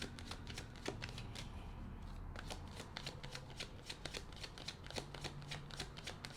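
Tarot cards being shuffled by hand, a quick run of crisp riffling flicks and soft slaps repeating close to the microphone in a quiet room, with no talking.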